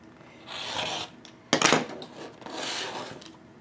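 Quilt fabric being trimmed straight with a cutter, producing close raspy cutting strokes: two longer scraping passes around a brief sharper scrape, no talking.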